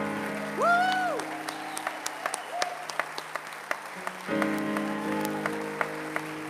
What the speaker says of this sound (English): Come on, clap for them.